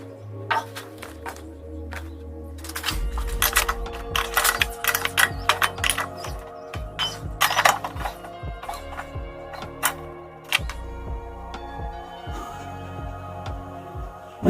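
Car wheel bolts come loose under a wrench, with metallic ratcheting clicks and clatter and rhythmic turning bursts. Low engine-like hums come and go underneath, all close and moderately loud.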